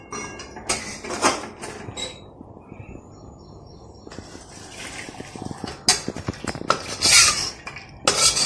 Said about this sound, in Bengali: এবার আমি এই চিনির শিরাটা অন্য পাত্রে ঢেলে নেব।